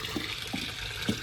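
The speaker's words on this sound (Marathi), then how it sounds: "इथं पाणी भरायचं चालू आहे." Water running from a borewell outlet as containers are filled, a steady broadband splashing with a few brief thumps, no voices.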